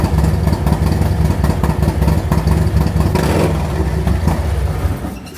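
A Harley-Davidson motorcycle engine idles steadily with a deep, loud exhaust rumble that holds constant before easing off slightly at the end.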